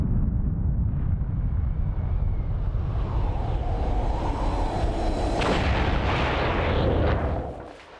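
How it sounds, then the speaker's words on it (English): A Soviet hydrogen bomb detonation renders as a massive, sustained low rumbling roar, loud and continuous with a rising crackling blast wave, fading out at the end. "the Soviets also explode an H-bomb"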